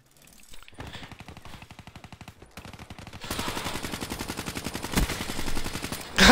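Rapid automatic gunfire in the Black Ops 3 shooter game, firing in long, closely spaced bursts that grow louder and denser partway through and end on a sharp, loud blast.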